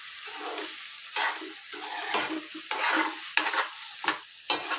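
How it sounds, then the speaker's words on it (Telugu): Potatoes and beans fry in oil for aloo beans curry, giving a close crackling sizzle with bursts of stirring and scraping that rise and fall in irregular surges. "మంచిగా ఫ్రై అవుతున్నాయి ఆయిల్లో"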